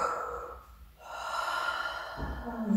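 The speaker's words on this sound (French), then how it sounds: "Sentez cette respiration haletante." Heavy, audible panting breaths during a hatha yoga exercise, close and steady with a brief pause partway through, alone without talk.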